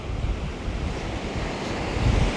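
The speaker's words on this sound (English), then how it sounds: "The waves are a big part of that." Ocean waves wash steadily onto a beach, a continuous broadband roar of surf with wind noise buffeting the microphone, no voices.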